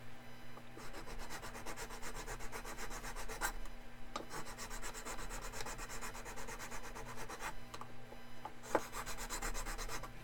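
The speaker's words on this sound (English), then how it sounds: "See, I'm filing this as flat as I can" Hand filing along a seam on a glass construct build, a quiet close rhythmic rasping with steady back-and-forth strokes and a few small clicks, no voices.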